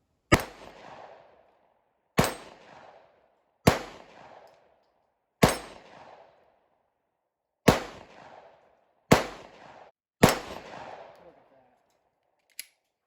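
Glock 43 subcompact pistol fired at a steel dueling tree outdoors, seven sharp loud shots spaced about one to two seconds apart, each followed by a brief ringing decay, then a faint metallic clink.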